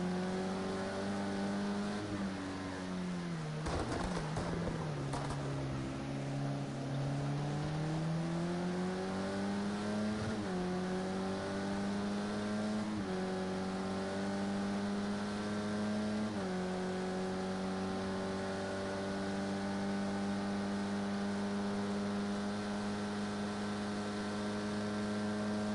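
Race car engine in a sim racing game at Bathurst, heard onboard from a bonnet view: a steady, droning whine climbing and dropping through gear changes, loud and continuous with no talk.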